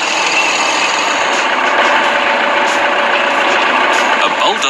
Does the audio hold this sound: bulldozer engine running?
yes